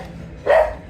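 A single dog bark or yip sounds partway through, short and moderately loud, over a faint background hum; no one talks over it.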